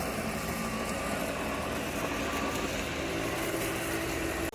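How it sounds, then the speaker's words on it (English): An Ambrogio L-60 Deluxe robot lawn mower runs as it cuts grass around a pool, giving a steady, moderately quiet motor hum that stays even throughout. "He's a big robot mower"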